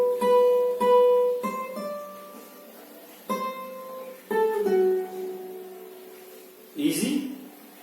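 An acoustic guitar plays a short melodic phrase from a theme. Separate plucked notes ring out one at a time and move between pitches, each fading before the next. A brief brighter strum closes the phrase.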